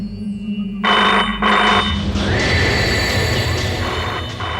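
A telephone suddenly rings by itself in a dark room, a loud electronic bell that starts after a quiet moment and repeats in short bursts, continuing steadily with a low hum beneath and no one speaking.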